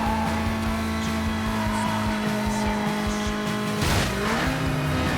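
Racing car in Need for Speed Most Wanted (2005) during a toll booth race: a steady, loud engine drone with tire squeal and a sharp skid burst near the end, the pitch shifting as it pulls away.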